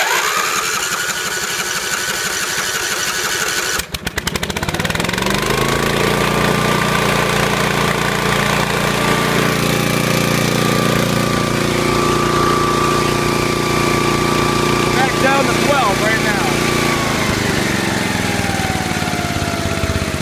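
A Lincoln engine with a charging fault cranks and catches after a couple of days unused, then settles into a steady, close, loud idle with a droning mechanical hum and no talking.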